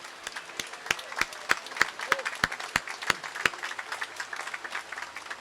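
An audience at the Harry Whitehorse Festival closing ceremony applauds a World War II Navy veteran with a run of sharp, rhythmic claps, near and steady, fading into lighter scattered clapping.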